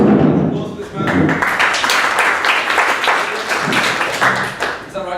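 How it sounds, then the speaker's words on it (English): An audience applauds a volunteer joining a speaker on stage at a talk, steady clapping through the whole stretch mixed with thumps, and a voice speaks briefly over it near the start. "Applause for this man."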